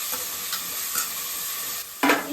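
Tomato, mint and coriander fry in a pan with a steady, soft sizzle, broken by a few scraping stirs and a sharper burst of crackling near the end.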